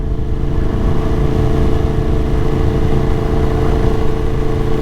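Yamaha MT-10 2023 motorcycle fitted with an Akrapovic full titanium exhaust, its engine running with a steady, loud, close rumble that holds even throughout without distinct revs or talk.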